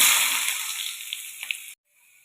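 Small shallots frying in hot coconut oil in a heated pan with popping mustard seeds, a steady close sizzle with faint crackles that stops abruptly near the end, leaving a quiet hiss.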